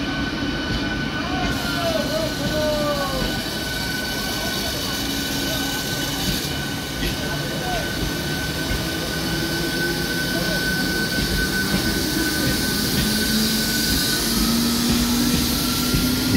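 An Eastern Railway local train running toward Hooghly railway station in West Bengal, a loud continuous rumble and rattle of wheels on track for the whole stretch, with faint squealing tones and some talk underneath.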